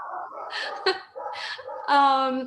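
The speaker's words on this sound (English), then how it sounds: "Sorry if you can hear my dog in the background." A dog whimpers and yips in short bursts while a person speaks over it, the whining rising near the end.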